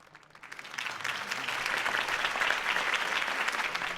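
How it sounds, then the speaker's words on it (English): Crowd applause for Harvey Dent's campaign speech in a Batman Telltale video game, swelling from a light start into steady, dense clapping that holds loud and continuous to the end. "If only Mr. Wayne, my campaign's largest backer, could have heard that applause"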